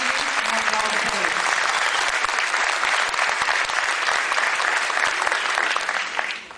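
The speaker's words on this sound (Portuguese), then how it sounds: "Un aplauso para ellos." A crowd applauds a couple being honored as double diamonds at a business event, a loud, continuous sustained clapping that stays full for the whole stretch and only dips briefly near the end, with no voices over it.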